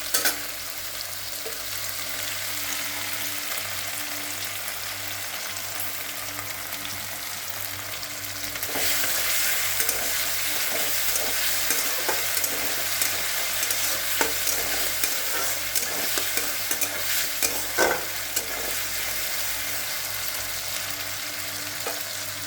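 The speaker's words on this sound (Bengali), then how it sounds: "এখানে আদাগুলো থেতো করে দিয়েছি। এটা একটু ভালো করে ভাজা হবে" Crushed ginger fries in hot oil in a pan, a steady close sizzle that swells partway through, with scraping stirs of a spoon breaking in now and then.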